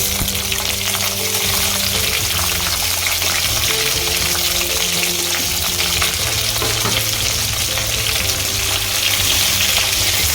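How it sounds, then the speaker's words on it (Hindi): Tomatoes and carrot frying in a pan for tomato soup, a loud, continuous sizzle with stirring scrapes running throughout, no talking. "इसके बाद हम इसमें मेन जो है हमारा टमाटोज ऐड करेंगे।"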